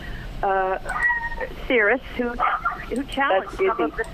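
A dog barks and yips indoors a few times in short bursts, close and fairly loud, overlapping ongoing conversation between people talking.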